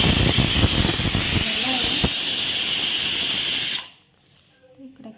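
A kitchen pressure cooker cooking khichdi rice vents steam in a loud, continuous hiss that cuts off abruptly near the end, leaving near silence with faint clatter.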